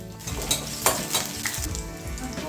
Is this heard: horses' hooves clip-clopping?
no